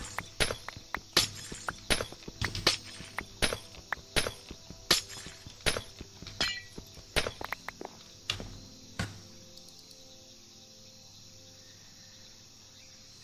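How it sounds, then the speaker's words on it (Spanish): Glass blocks shattering one after another in a Minecraft-style sandbox game, a fast run of sharp crisp breaks that thins out toward the end over a faint ambient drone. "Vamos a quitar estos cristales."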